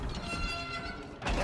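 Trains running on rail tracks in the video game Spider-Man: Miles Morales, a steady rumbling rail noise throughout that swells louder near the end, with no talk over it.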